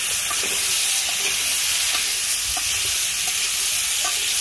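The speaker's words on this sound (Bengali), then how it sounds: "একটু নাড়াচাড়া দিয়ে নেবে, নাড়াচাড়া দিয়ে যাও" A big fish sour curry sizzles steadily in a pan while being stirred, a loud, continuous frying hiss with soft scraping strokes throughout.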